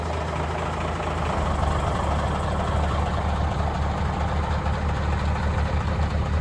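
A heavy truck engine idles after a cold start following weeks of sitting, a loud steady low rumble with a slight change in tone early on, running alone without voices.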